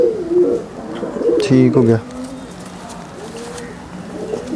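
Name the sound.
pigeons cooing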